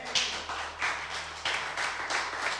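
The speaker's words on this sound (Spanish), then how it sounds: "Dale ese aplauso fuerte al Señor" Audience applause at a church service, a loose mix of claps in several swelling waves, mid-distance and moderately loud in a reverberant hall.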